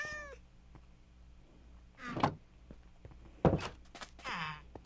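A cat meows a few times in short, clear calls, separated by quiet pauses and a soft thump, with no talking.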